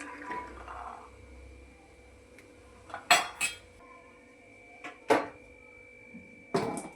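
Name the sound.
adding peas into pressure cooker with potatoes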